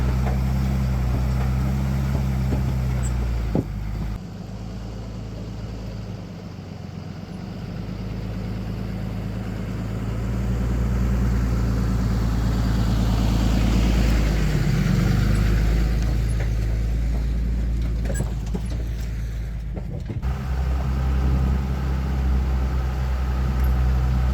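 Truck towing a trailer over a rough trail near Mount Washington, tires aired down, heard as a steady low engine drone with rumbling and jostling throughout, no talking.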